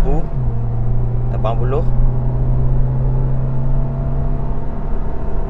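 A 2019 Perodua Aruz accelerating in a 0-100 km/h test gives a steady engine drone and cabin rumble that rises after a gear change, with someone speaking over it at close range.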